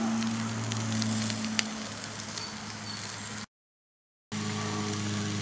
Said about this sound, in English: here we have a rack of our barbecue spare ribs on the grill